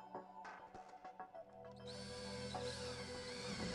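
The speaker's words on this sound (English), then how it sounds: "a hole is drilled." A power drill bores a hole in a wall for cable, with a few short taps and bursts of the motor first, then a steady, close whirring drone that holds for the remaining couple of seconds.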